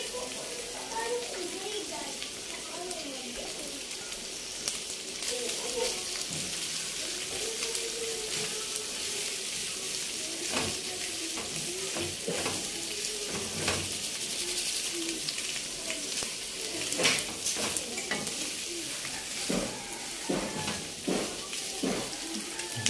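Lechon pieces go into a sizzling pan for lechon paksiw, a steady low frying hiss with occasional clatters and stirring, faint and continuous under a speaking voice.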